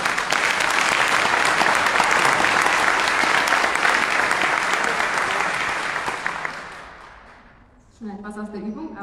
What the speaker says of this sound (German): Und dann nochmal einen herzlichen Applaus für Anja.